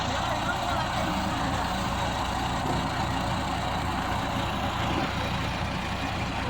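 A Punjab threshing machine runs behind a tractor on a farm, giving a steady, loud mechanical drone with a dense low engine rumble and broadband clatter that stays constant throughout.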